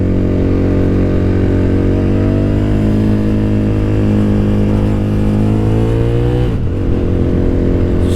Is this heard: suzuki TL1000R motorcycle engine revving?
yes